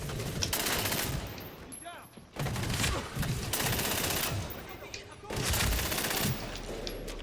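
Heavy gunfire in the video game Medal of Honor Warfighter, with loud bursts of automatic and rifle fire coming in dense waves that briefly drop off between volleys.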